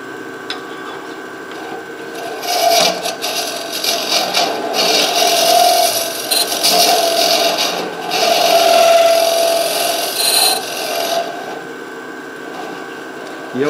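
A scraper cuts into a wooden saltshaker spinning on a lathe, producing a close, scratchy, uneven scraping that comes in bursts, with a brief pause near the end.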